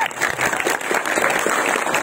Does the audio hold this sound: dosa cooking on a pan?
no